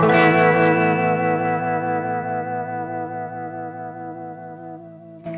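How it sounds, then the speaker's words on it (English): A vintage Magnatone M9 amp with a 15-inch Jensen speaker sustains a clean chord through its pitch-shifting vibrato, which wavers evenly as the chord slowly decays. "This one does utilize a pitch shifting vibrato"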